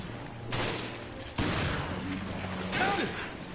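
Gunfire in the zombie shooter Resident Evil: Revelations, loud bursts of shots in quick succession with a steady in-game hum underneath, and a voice briefly breaking in over the shooting.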